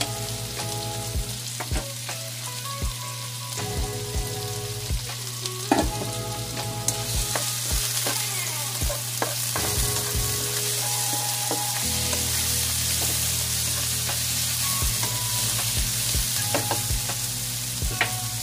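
Tomatoes and onion fry in a hot pan with a loud, steady sizzle, broken by stirring scrapes and clatter throughout.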